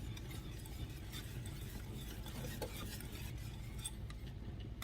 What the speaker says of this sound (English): Now you're going to bring this to a boil that you cannot stir down.